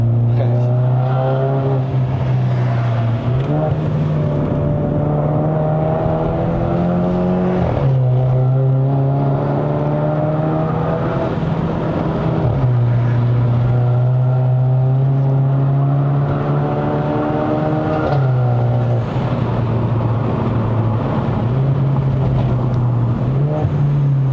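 An MK5 Volkswagen Polo GTI engine drones loudly from inside the cabin on a Malaysian mountain road, its pitch climbing steadily then dropping at each gear change, repeating through several shifts without pause.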